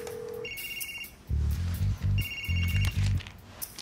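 A telephone rings with an incoming call on a speakerphone, sounding in two bursts of bright trilling rings with a quiet beep before them. It is fairly close and heard alone, with low rumbling noise in the room.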